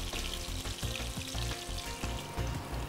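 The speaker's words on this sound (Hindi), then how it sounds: "तेल गरम होने के बाद हमने इसमें करी लीव्स डाला और ये मैरिनेटेड फिश हम इसमें डालेंगे" Marinated fish frying in hot oil with curry leaves, a loud, dense, unbroken sizzle and crackle heard up close for a few seconds, with no one speaking.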